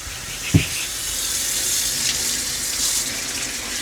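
Hot water runs from a tap in an RV fed by a Fogatti heater, a steady hissing stream with a small knock near the start, heard alone at a constant level.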